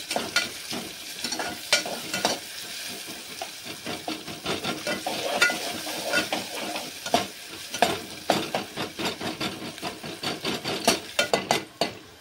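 Onion fries in a pan, sizzling steadily under a run of quick scraping stirs and light clinks from a utensil against the metal. No speech.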